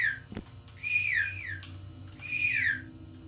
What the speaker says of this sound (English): Okay, I whistle.